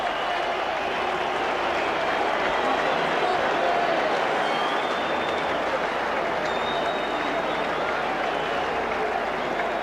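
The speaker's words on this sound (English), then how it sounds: "Perhaps rather muted applause for the All Blacks." Muted stadium crowd applause at Loftus Versfeld as the All Blacks run onto the field for a 1996 rugby test against South Africa, a steady broad wash of distant clapping and crowd noise with no break.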